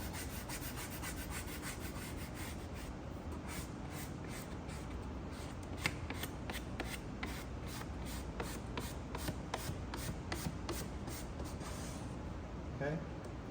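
A squeegee presses protective film onto a Spyder F3 Limited/Touring saddlebag, making steady close rubbing and scraping strokes in a continuous, evenly paced run.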